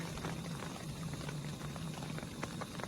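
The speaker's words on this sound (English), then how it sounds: "That water looks like it's boiling." Water boils in an open kettle on a camping stove outdoors, a steady, soft bubbling and hissing roar with faint pattering that continues unbroken throughout, heard close by.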